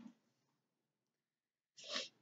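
A single sharp sneeze bursts out near the end after a quiet stretch, close and fairly loud, with faint indoor noise before it.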